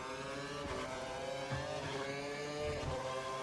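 A Formula 1 car engine in the F1 2012 racing game during practice at the British Grand Prix, a buzzing, strained whine holding a steady high drone with small pitch wobbles, no talking.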